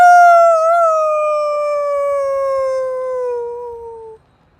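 A voice imitates a wolf howl during a yoga session: one long, loud, steady howl that holds for about four seconds, drifts slowly downward in pitch, then cuts off into silence.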